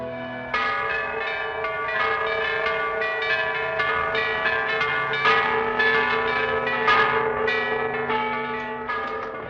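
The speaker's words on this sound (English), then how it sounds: "What are those bells? They toll the hour of marriage." Church bells ring loudly and continuously, overlapping metallic strikes sustained throughout, with a resonant sound, heard alone without talk.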